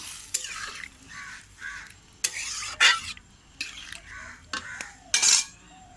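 A spoon stirs a curry in a pan right after water is added, producing a series of close, uneven scraping and clinking strokes with brief wet sizzling bursts between them.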